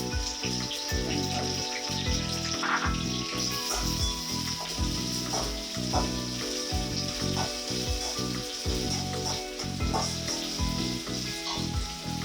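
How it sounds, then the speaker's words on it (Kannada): Steady, dense sizzling of onions frying in hot oil, continuous and close throughout with no talking. "ಈರುಳ್ಳಿ ಪಾಡು ಬ್ರೌನ್ ಫ್ರೈ ಫ್ರೈ"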